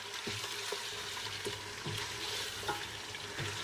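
Biryani masala being stirred into chicken in a pot, a steady loud sizzle of frying with repeated scraping stirs of a spoon against the pot at a regular rhythm, close by and with no talking.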